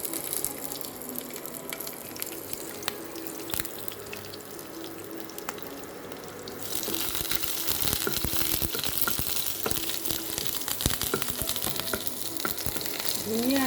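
Panch phoron spices and green chillies frying in hot oil for an Assamese taro stem dish, a steady close crackling sizzle that grows louder and busier partway through.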